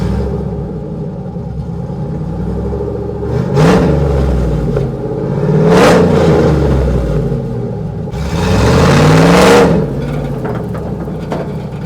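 A truck with a cammed engine and 4L60E transmission idles with a choppy lope, then revs hard three times, each blip rising and falling back to the rough, close idle.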